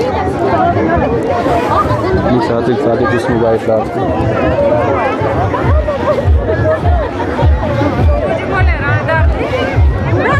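Dense crowd hubbub at the Roushra Mata Navratri fair, an eighteen-armed goddess mela, with many overlapping voices, footsteps and general bustle filling the scene continuously and loudly, a nearby voice speaking over the din.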